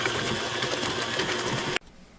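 An electric hand mixer whirs steadily as it beats eggs for a zucchini, carrot and apple pound cake batter, a loud continuous buzz with no talk that cuts off abruptly near the end.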